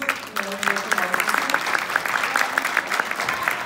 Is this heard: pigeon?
no